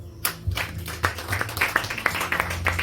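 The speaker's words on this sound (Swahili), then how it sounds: "Pigieni yeye makofi" A church congregation claps during a service, scattered hand claps building into uneven applause at close to middle distance.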